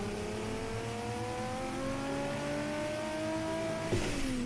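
Race car engine in a driving simulator game revving hard through a single gear, its harsh note climbing steadily for about four seconds before dropping sharply at a shift.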